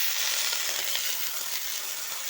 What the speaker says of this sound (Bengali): লাল করে ভাজা হয়ে গেছে,